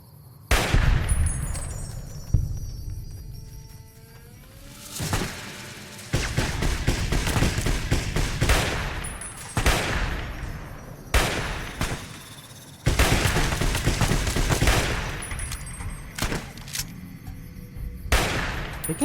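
Gunfire in the video game Fallout: New Vegas, repeated loud volleys and rapid bursts of shots separated by short pauses, with booming impacts and lingering echoes throughout.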